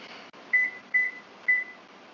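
A kitchen timer gives three short, evenly spaced electronic beeps after a faint click as it is set, heard alone in a quiet kitchen.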